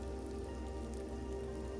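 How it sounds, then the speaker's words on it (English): Steady rain falling outdoors on a foggy winter day, a dense continuous patter with no voices, even and moderately faint throughout. "Another problem is that it started raining"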